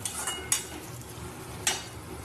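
Pointed gourd fried with poppy seed paste is stirred in a pan under a soft, continuous sizzle, with two distinct scrapes of the spoon against the metal.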